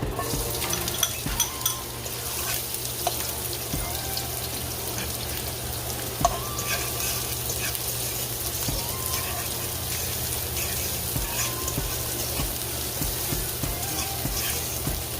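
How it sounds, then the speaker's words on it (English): Onion and garlic sauté in hot oil for a three-meat pasta, giving a steady, loud crackling sizzle that hisses on without a break, with occasional small clicks on top. "my oil is warm, it's hot. I'm gonna do onion and garlic"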